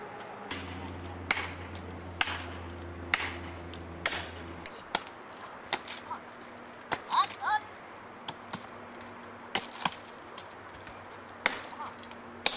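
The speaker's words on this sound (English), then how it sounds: "Shims are hammered into the back to make sure this giant pine tree falls in the right direction" Shims being hammered into the back cut of a giant pine tree at a logging site, sharp single knocks repeating about every second, close and distinct over a low steady engine hum that drops away partway through.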